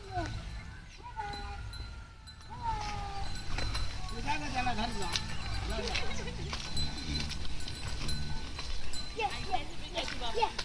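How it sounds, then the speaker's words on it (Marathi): Hooves shuffle and clop steadily as water buffaloes come in from the fields past a village in rural Konkan, with people talking and calling out over the animals. "समोर म्हस येते आहे"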